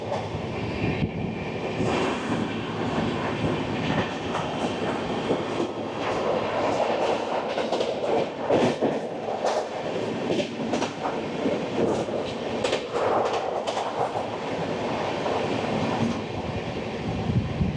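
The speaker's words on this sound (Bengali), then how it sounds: "আসছে ট্রেন নাম্বার 15708 অমৃতসর থেকে কাটিহার জংশন আম্রপলি এক্সপ্রেস।" The Amrapali Express from Amritsar to Katihar Junction rolls past steadily for the whole stretch, a continuous loud rumble with clickety-clack wheel rhythm and occasional metallic squeals, with no voices over it.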